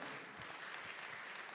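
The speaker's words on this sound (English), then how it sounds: "Please, another round of applause for her." Steady, dense applause from an audience at a school lecture and panel discussion, continuous and even throughout with no voices standing out.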